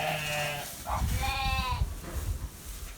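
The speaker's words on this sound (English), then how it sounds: "Like these ones here are ewe lambs." Grey-faced Dartmoor cross ewe lambs bleat on a farm, several overlapping calls in quick succession at close range, loud and wavering over low background rumble.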